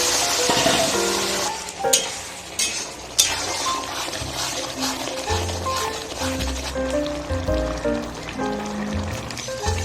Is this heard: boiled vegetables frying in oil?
yes